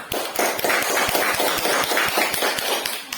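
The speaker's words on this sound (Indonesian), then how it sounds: "kalau tidak ada kita beri tepuk tangan untuk kelompok harimau" Applause from a classroom of students for a student group after a presentation, a few seconds of dense, scattered hand claps with sharp individual slaps, fairly close and steady, no talking.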